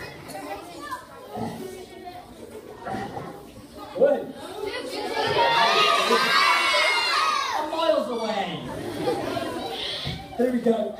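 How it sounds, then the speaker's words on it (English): Children and a crowd shout and cheer loudly at an escapology show, the noise swelling into a sustained roar midway and staying high, with voices chattering around it. "When I get the jacket off, I want to hear a big cheer."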